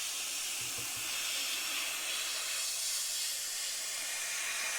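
A steady, close hiss of an aerosol spray can runs continuously for several seconds, spraying paint onto a masked-off Hornby model railway coach.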